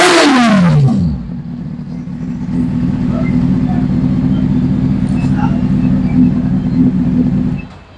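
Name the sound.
Honda CBR600RR 2003 motorcycle engine running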